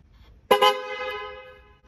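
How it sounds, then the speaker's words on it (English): A car horn, triggered by bridging its relay terminals with a wire, gives one loud, close, steady honk about a second long that fades out, with no talk over it. "And you can see that the horn does honk when you do that."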